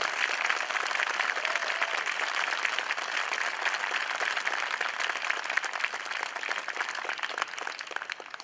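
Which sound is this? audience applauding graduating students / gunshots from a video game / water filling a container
audience applauding graduating students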